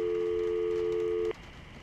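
An old cell phone in the video game Syberia places a call to an office, giving a steady electronic ringing tone that cuts off abruptly after a bit over a second, leaving quiet room hiss.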